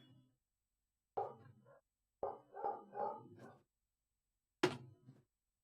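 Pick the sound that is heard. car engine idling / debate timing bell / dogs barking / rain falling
dogs barking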